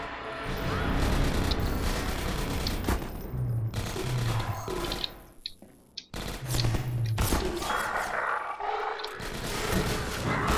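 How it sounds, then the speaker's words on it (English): Rapid gunfire while shooting enemies in Half-Life 2, dense loud bursts of shots and crashing impacts with a brief lull midway, no talk. "Go on, shoot them! Shoot them!"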